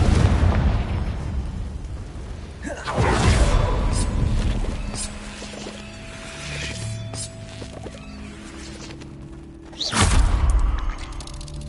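Two loud booming blasts of the Confringo fire spell in Hogwarts Legacy, several seconds apart, each with a rumbling tail over ambient game sound.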